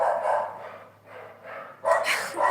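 Neighbours' dogs barking nearby, a few sharp barks in quick succession with a short pause, then a louder burst at the end.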